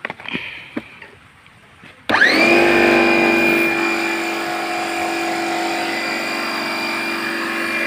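A compressor spray-gun machine of the kind used for steam-washing motorbikes starts up suddenly after a few quiet knocks. It settles into a loud, steady whine with a droning hum that carries on to the end.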